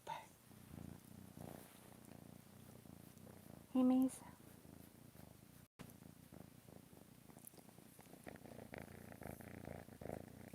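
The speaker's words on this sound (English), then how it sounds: "let me pick her up so you guys can hear her purr" A cat purring while held up close to a microphone, a steady soft rumbling purr running throughout, with someone speaking briefly over it.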